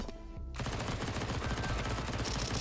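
Rapid automatic gunfire in the video game Counter-Strike 2, a dense continuous burst of shots that starts abruptly after a brief quieter moment and stays loud throughout.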